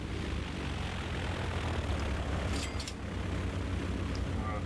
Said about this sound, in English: so we've got planes coming and going.